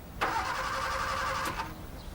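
A clapped-out old car bought for £85 cranks without catching, out of petrol: a steady whirring starter grind lasting about a second and a half, fairly close and loud, then cutting off abruptly into quiet.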